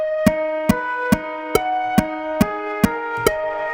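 A mini grand piano processed with EQ, lo-fi grit, echo and reverb, evenly spaced sharp percussive clicks ticking over sustained gritty notes in a steady rhythm.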